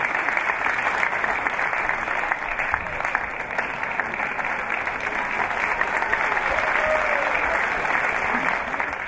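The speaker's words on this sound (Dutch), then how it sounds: "Groot applaus voor de familie Martinez en in hem Hans Martinez." Sustained applause from the audience at a senior citizens' song festival final, a dense, even rush of clapping throughout with faint crowd murmur beneath.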